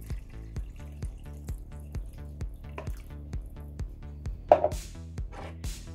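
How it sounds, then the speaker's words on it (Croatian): Half a litre of water is poured into a slowly simmering pot of goulash on the stove, a close, quiet splashing and trickling that continues with little pause and no talking. "Ja ću ovdje sada dodati još pola litra vode."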